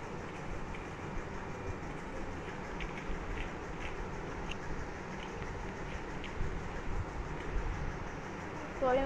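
A train moves in the video game Granny Chapter 3, a continuous rumbling rattle of wheels and carriage at an even level, with faint intermittent clicks over the top.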